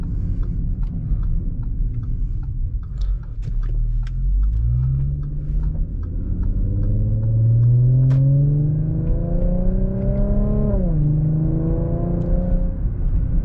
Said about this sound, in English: I'll shut up and let you guys enjoy the exhaust.